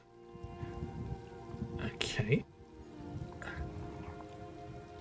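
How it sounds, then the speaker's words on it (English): Steady rain falls in the Elder Scrolls Online game world, a soft continuous patter under background music, and someone briefly speaks over it. "Oh, it's actually raining."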